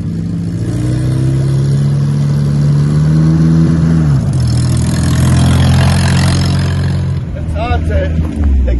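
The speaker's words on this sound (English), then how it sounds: "To accelerate and change gear, and the old gearbox is a bit sticky." A 1928 Chevrolet truck, a barn find with a sticky old gearbox, revs up loudly and close. Its engine note climbs, drops sharply at a gear change, then builds again under a steady rumble.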